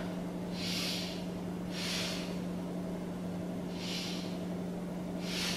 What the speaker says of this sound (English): Take three breaths here.